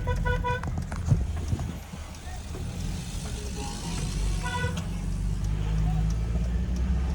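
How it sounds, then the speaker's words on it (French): Several car horn honks, including a sharp repeated toot at the start and another burst later, over steady road traffic noise and background voices. "Et ça fait coup de klaxon parce que la route est ouverte"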